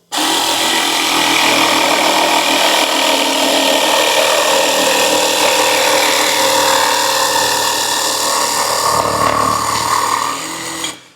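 A WORX AXIS brushless jigsaw cuts a straight line through wood, its loud, steady buzzing whine running continuously for about ten seconds before it stops at the end.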